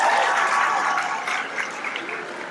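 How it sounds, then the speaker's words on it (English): Convocation audience applauding the keynote speaker, a dense, steady wash of many hands clapping that fades slightly toward the end, with no voices over it. "let's give her another round of applause."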